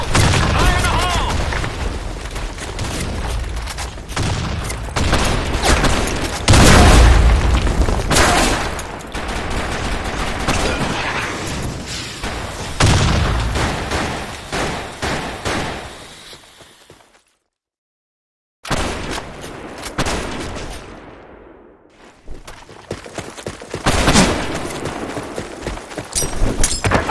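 Grenade blast and rapid gunfire in a desert-map shooter video game match, dense loud bursts of shots and booms, a brief silent gap, then more firing, with game voice callouts over the action.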